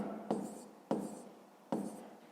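Numbers written by hand, likely with pen on paper: three quiet scratchy strokes spaced under a second apart, soft and close.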